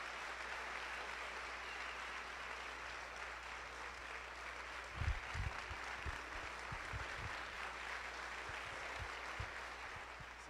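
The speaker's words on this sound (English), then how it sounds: "can we give a round of applause for all of our senators and representatives that are up here?" Applause at the Arkansas Boys State general session for senators and representatives on stage, a sustained, even roar of many hands clapping across a large hall, with a few low thumps partway through.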